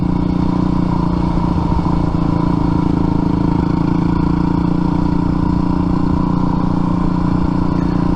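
A dirt bike engine running steadily while riding, a loud close mid-pitched drone with a constant buzzing tone and faint clatter, holding even without revving up or down and with no voices.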